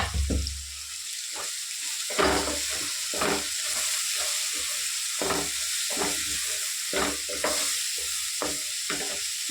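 Banana flower and lentils fry in a pan with a loud, continuous sizzle, broken by repeated stirring scrapes that come in an uneven rhythm, heard up close with no voices.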